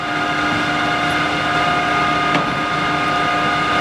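A Kingston tool room lathe, Model H with 17-inch swing and 43-inch centers, runs at a steady, smooth machine hum with a constant whine, close and unbroken, with a brief click partway through and no talking.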